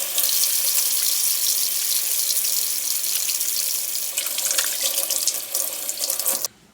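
Water runs from a kitchen tap into a sink during hand washing, a loud steady close gush that splashes and shifts before cutting off abruptly.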